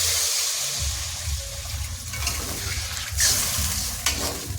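Water poured into a pan of spiced curry being cooked down in oil, a continuous splashing sizzle and bubbling with light stirring scrapes and a couple of brief clinks, close up, no talk.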